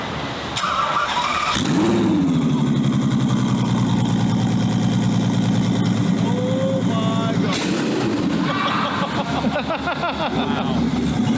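A twin-turbo Ferrari F12 engine cranks and fires up, roaring loudly then settling into a high, steady idle for several seconds before revving again, with a brief squeal.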